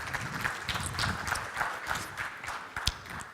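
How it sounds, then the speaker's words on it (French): An audience claps for a speaker at an innovation talk, a loose patter of individual hands with some uneven, sharper claps, fairly close and without voices. "Sous vos applaudissements."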